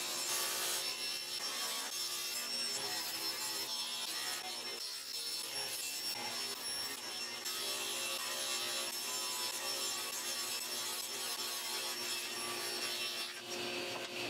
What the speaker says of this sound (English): I could get busy cutting out all the pieces